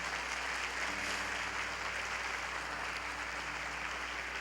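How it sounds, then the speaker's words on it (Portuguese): A church congregation applauds during a sermon, a steady, even hiss of many hands clapping that sounds fairly distant and low in level. "Dá uma salva de palmas bem forte para Jesus então"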